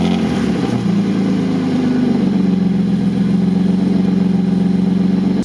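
A BMW E36 swapped from a 1.6 to a 2.5 engine drives along, its engine note loud and steady throughout with a slight rise in revs early on, heard from inside the car with no talking.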